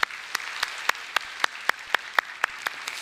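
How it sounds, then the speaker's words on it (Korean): A congregation at a Sunday morning church service claps steadily in encouragement after a closing prayer, with distinct, fairly regular individual claps standing out over a softer wash of hands. "인사하실 때 격려의 박수 해주시기 바랍니다"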